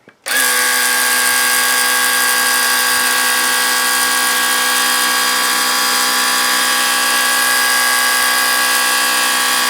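A Ryobi Power Cleaner runs on turbo mode, giving a loud, steady, high-pitched electric motor whine. It starts abruptly and holds evenly close by with no talk.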